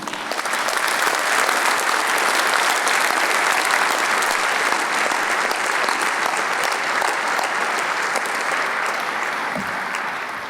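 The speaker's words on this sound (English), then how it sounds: "Graduates, can you please join me in a big round of applause to say thank you?" Graduates at a university graduation ceremony give staff a long, full round of applause, a dense and even wash of clapping from a large seated crowd that holds steady before tapering slightly at the end.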